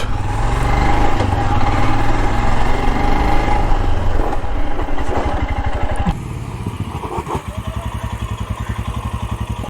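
A Royal Enfield Himalayan 411 motorcycle in a braking test with ABS engaged, its single-cylinder engine loud and close, revs dropping into a lumpy idle thump as the bike slows, with no talking.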